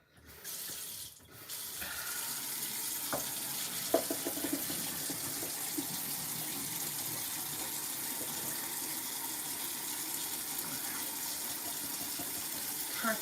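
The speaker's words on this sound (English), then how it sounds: "So I'm going to drain them first. So I'm just going to use this and drain them" Water being drained from boiled potatoes into a sink, heard as a steady close rush of pouring water with a few clinks and knocks from the pot and strainer.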